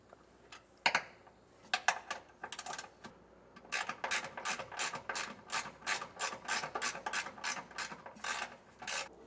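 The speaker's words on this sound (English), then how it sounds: "I'm going to use a 12mm socket and get these bottom bolts removed" 12mm socket ratchet loosening bolts during air helper spring installation, bursts of rapid ratcheting clicks at close range in uneven runs, with brief pauses between strokes; no talking.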